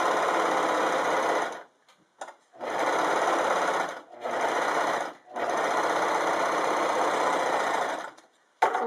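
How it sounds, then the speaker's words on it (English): An Elna 654 serger stitches through a single layer of organza, its motor running loud and steady in three long bursts separated by short pauses. "I'll switch over to my organza here, and I'll sew a little bit on a single layer."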